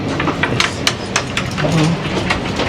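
Passenger train standing at a station, loud rumbling and clattering with sharp metallic clicks and hiss, over busy platform ambience.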